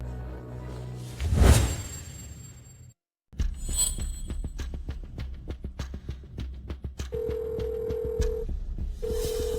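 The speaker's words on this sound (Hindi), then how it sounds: "आप जिस व्यक्ति को कॉल कर रहे हैं वे अभी फोन नहीं उठा रहे हैं।" A telephone call is dialed, with a quick run of keypad clicks followed by steady, evenly spaced ringback tones; no voices.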